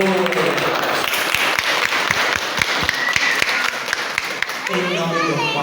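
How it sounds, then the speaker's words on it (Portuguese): Wedding guests in a church applauding, a continuous round of clapping with distinct sharp claps standing out, mixed with voices talking throughout. "mais uma vez uma salva de palmas para os louros"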